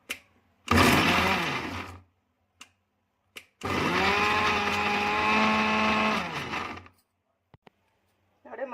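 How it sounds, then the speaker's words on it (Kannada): A kitchen mixer grinder grinds coriander and mint masala in two loud whirring runs, a short burst and then a longer steady one. Faint clicks from the jar and switch fall between and after the runs. "ಇವಾಗ ಮಿಕ್ಸಿ ಮಾಡ್ತೀನಿ"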